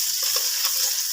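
Chopped onions hitting hot oil in a home kitchen pan, a steady bright sizzle with faint stirring clicks underneath, close and continuous.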